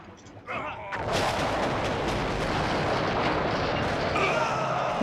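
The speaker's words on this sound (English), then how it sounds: "Looks like their battleship already went kablooey because it ran out of funds for upkeep" A battleship blows up in the Axis & Allies strategy video game, a sudden loud booming blast that rolls on in a sustained rumbling roar.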